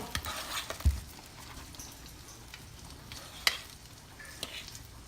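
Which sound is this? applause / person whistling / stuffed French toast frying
stuffed French toast frying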